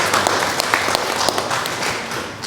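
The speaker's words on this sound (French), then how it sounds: "je voudrais quand même qu'on l'applaudisse" Audience at a dental implantology conference in Guinea claps, a brief burst of scattered, fairly close hand claps with distinct individual taps.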